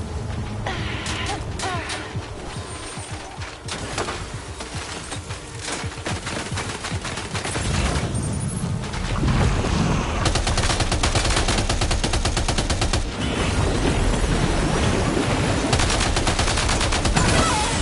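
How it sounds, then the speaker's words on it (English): Sustained gunfire from the video game Death Stranding 2, dense overlapping shots and bursts building into a heavier, louder barrage in the second half, with a possible brief voice underneath. "Open fire."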